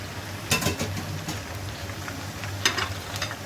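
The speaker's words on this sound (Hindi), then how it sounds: "ऑयल में मैंने चिकन ऐड कर दिया है" Chicken frying in hot oil over a high flame for achari chicken, a steady close sizzle with a few brief scraping stirs.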